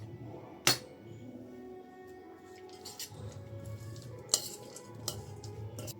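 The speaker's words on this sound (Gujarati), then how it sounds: "આ બધી જ વસ્તુ હવે આપણે એક સ્પૂનની મદદ વડે મિક્સ કરી લઈશું" A spoon mixes sweet potato chaat with pomegranate seeds and coriander, giving soft scraping and stirring sounds with a couple of sharp clinks against the bowl, close and fairly quiet.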